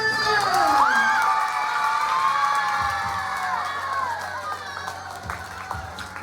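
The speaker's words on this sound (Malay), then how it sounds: "Satu tepukan untuk semua" An audience at a teacher's retirement ceremony cheers loudly, with shouts, whoops and children's voices over scattered clapping, the excited crowd noise slowly easing over several seconds.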